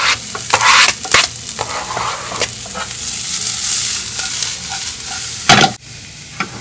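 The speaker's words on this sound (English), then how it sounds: "we're going to saute all our vegetables together" Garlic, peppers, onions and fennel sauté in a hot pan, a steady loud sizzle with scraping stirs and occasional clatter of the utensil against the pan, heard up close with no voices.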